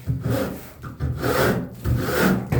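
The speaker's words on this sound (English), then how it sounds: "I'm gonna take this file side of this rasp" Rasp's file side scraping the freshly cut edge of a steel exterior door, three steady rough strokes in a back-and-forth rhythm, close and fairly loud with no talk.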